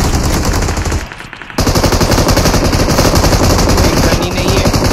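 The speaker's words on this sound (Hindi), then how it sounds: "2 शॉट मारे उसे हेड शॉट यार" Loud, sustained automatic gunfire in the mobile battle royale game BGMI (PUBG Mobile), firing in rapid, dense bursts that drop out briefly for about half a second, then resume just as intense.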